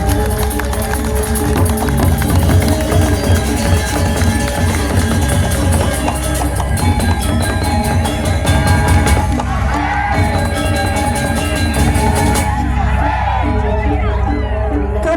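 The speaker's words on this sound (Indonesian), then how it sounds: "Sekali lagi mohon tepuk tangan yang paling meriah" An audience applauds and cheers loudly after a Balinese colossal dance-drama performance in Gianyar, with crowd noise blending with ringing gamelan-like music and a voice speaking over it.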